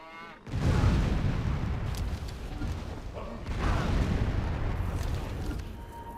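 A battleship and bomber attack in Civilization V, producing a heavy booming explosion that rumbles on, followed by a second rolling blast, loud and close, with battle noise sustained throughout.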